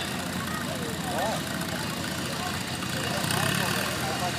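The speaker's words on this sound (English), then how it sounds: "Cheyenne Fletcher out of New Richmond on IH 230 from 1957. Fine looking tractor right there now." A 1957 IH 230 tractor engine runs in a parade, a steady mid-range rumble that stays fairly constant under outdoor background noise.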